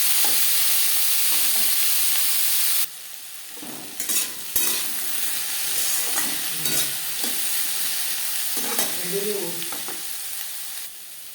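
Potatoes fry in hot oil with tempering spices for a vegetarian potato dish: a loud, steady sizzle first, then quieter frying broken by the clatter and scrape of a spatula stirring.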